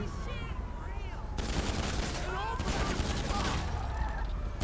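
GTA 5 video game gunfire: rapid bursts of shots and automatic fire crackling densely for several seconds, loud and continuous with brief gaps, mixed with game effects.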